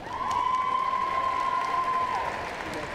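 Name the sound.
crowd applauding at basketball senior day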